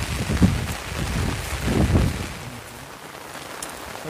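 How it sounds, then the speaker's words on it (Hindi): Steady rain patters and hisses outdoors over flooded farm fields, with gusts of wind buffeting the microphone in a couple of low rumbling swells. "अभी बारिश चालू है ना दोस्तों, देख सकते हैं।"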